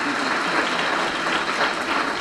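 Sustained applause from a large audience at a political speech in Islamabad, dense steady clapping filling the whole stretch without a break or voices over it.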